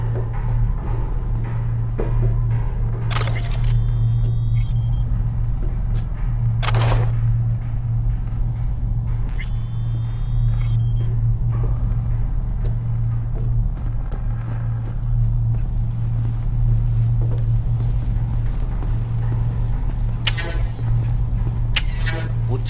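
Militech semi truck in the video game Cyberpunk 2077 gives a loud, steady low engine rumble throughout, with scattered mechanical clanks and brief sharp bursts over it.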